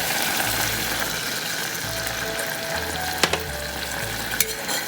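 Garlic and peppercorns sizzling in hot oil in a pan as vinegar, soy sauce and sugar are added, a steady close crackling fry with a couple of brief clinks from stirring.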